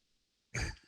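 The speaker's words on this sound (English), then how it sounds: "I see you coughing" A single short, harsh cough bursts out abruptly from near silence, then trails off into a brief rough exhale.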